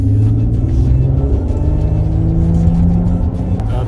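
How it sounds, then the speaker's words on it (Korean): A car pulling away in Sport Plus mode, engine droning steadily with a low rumble and rising whir, loud and continuous with no talk. "너한테 빨리 가려고 지금 스포츠 플러스 쓰고 가고 있어"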